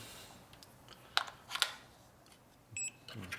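A short electronic beep from a smart multimeter sounds near the end, preceded by a couple of sharp clicks from handling small parts like batteries in a quiet room.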